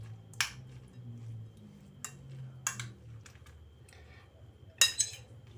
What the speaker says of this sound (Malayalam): ഇനി ഇത് നല്ലപോലെ ഒന്ന് മിക്സ് ചെയ്യണം.